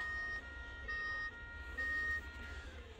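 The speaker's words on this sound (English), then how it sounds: "I believe that is ambulance in France" A toy diecast ambulance plays a French SAMU two-tone siren, an electronic high-low alternating tone repeating about three times, thin and close with steady background hum.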